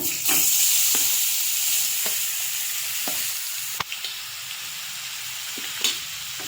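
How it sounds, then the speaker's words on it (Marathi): Onion frying in hot oil for pav bhaji gives a steady, bright sizzle close by, with a handful of sharp clicks from stirring and no talking. "तेल टाकूया पहिला तर आपण कांदा टाकूया"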